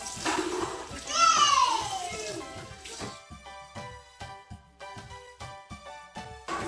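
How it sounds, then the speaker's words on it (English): Running tap water splashes over raw meat as it is rinsed in a home kitchen while preparing Haitian legume, first a steady gush, then choppy splashing and clatter as the meat is handled. "Now I'm going to add my meat. Rinse it off."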